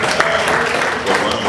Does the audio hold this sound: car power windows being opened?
no